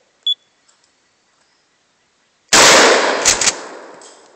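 A single loud shotgun blast at a clay target on a shooting club range, sudden and close, trailing into a long decaying echo after a brief faint click beforehand.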